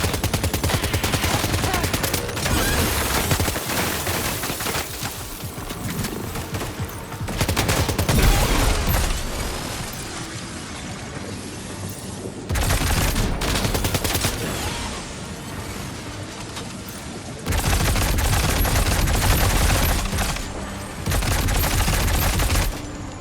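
Heavy gunfire in the Death Stranding 2 video game, dense rapid bursts of automatic weapons in loud sustained volleys, broken by a few shorter lulls.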